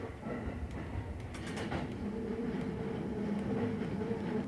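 A train on the Ome Line runs through tunnels and mountain curves, heard from inside the carriage as a steady rumbling roar with faint rail clatter and squeal, growing slightly louder throughout.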